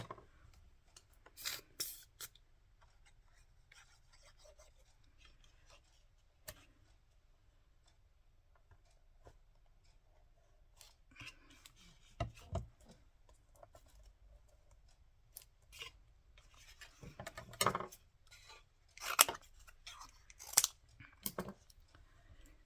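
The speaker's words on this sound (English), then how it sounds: "Shouldn't be using those scissors, okay, because they're for fussy cutting." Scissors cutting paper for a mixed-media collage: quiet, scattered snips and ticking clicks, close and faint at first, growing into busier runs of sharp cuts toward the end.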